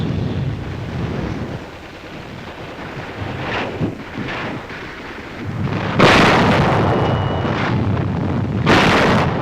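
Army artillery firing during the 1944 battle for Garapan in the Marianas. Rumbling distant fire and wind noise give way to two loud, sharp blasts near the end, heard without talk.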